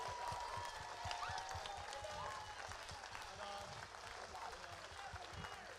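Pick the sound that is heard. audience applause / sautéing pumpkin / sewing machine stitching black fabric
audience applause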